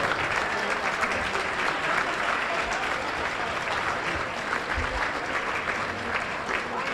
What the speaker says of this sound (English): Big round of applause for all of them right there.